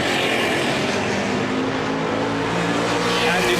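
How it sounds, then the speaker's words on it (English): A Chevrolet Camaro touring car racing at speed in the Gerry Marshall Trophy at the Goodwood Members' Meeting, producing a loud, steady engine roar that stays strong throughout. "look at the pace with which the Camaro came past"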